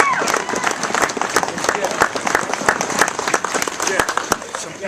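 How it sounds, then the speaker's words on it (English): A rally crowd breaks into dense, continuous applause, many hands clapping close and loud for several seconds without a break. "Let's give a hand of applause for Gerald Martinez."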